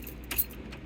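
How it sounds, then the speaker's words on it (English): Someone turns a Ford car's ignition key off, making one brief, quiet metallic click and jingle of keys against a low background hum. "Turn ignition off, then back on."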